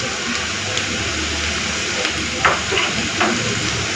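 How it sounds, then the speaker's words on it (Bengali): Onions frying in a pan for a home-style chicken biryani, a steady sizzle with a few soft scrapes and clinks as they are stirred partway through, no voices. "এদিকে পেঁয়াজটা একবার নেড়ে নিচ্ছি, নাহলে পেঁয়াজটা পুড়ে যাবে।"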